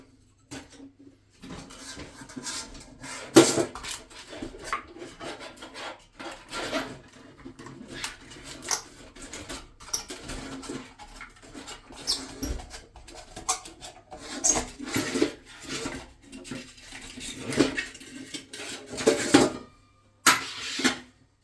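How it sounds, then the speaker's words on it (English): Insulation is pulled by hand out of a Quooker kitchen tap water tank, making irregular close rustling, scraping and rubbing bursts with occasional knocks against the tank and no speech. "Now you can remove all this insulation inside, like this."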